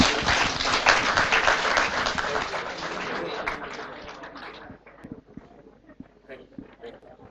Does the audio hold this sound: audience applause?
yes